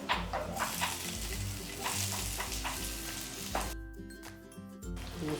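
Garlic and English vegetables frying in hot oil, a steady moderate sizzle with stirring, with a tonal background sound running underneath, briefly easing off near the end.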